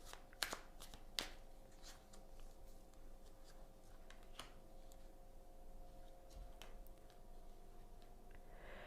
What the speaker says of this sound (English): I'd like to choose an oracle card just for a practice point or a meditative point for the week.